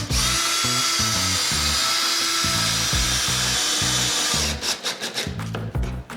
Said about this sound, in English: I'm going to secure it to the wall using some long number 8 screws